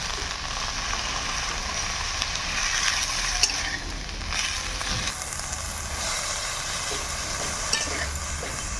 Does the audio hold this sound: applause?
no